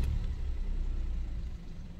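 An Opel Corsa loan car's engine running, a low, steady rumble with a smooth hum and no voices over it.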